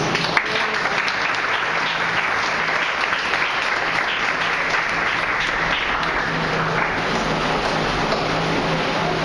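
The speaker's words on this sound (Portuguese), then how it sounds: "Palmas para Jesus." Continuous clapping from a church congregation fills the space, a dense, steady wash of applause with a faint low hum underneath.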